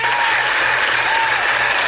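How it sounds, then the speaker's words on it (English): A crowd applauds at a comic book store event on Free Comic Book Day, dense loud clapping filling the brief moment without talk. "Give him a round of applause."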